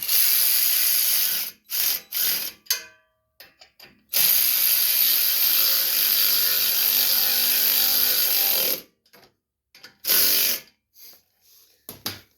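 Ratchet wrench tightening the carburetor bolts on a Briggs & Stratton snowblower, heard as several loud bursts of rapid ratcheting clicks separated by short pauses, with one long steady run in the middle and no talk.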